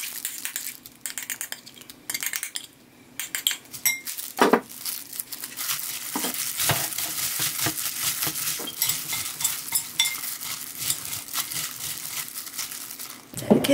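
Seasoned cockle salad with vegetables tossed in a bowl, with close clinks of utensils, scraping and wet crinkly mixing sounds in irregular bursts and no talk.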